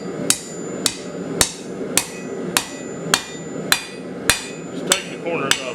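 Steady hammer blows ring out on a 1/4 by 1 inch steel flat bar over a blacksmith's anvil, about ten sharp metallic strikes at an even rhythm, close and loud with no talk.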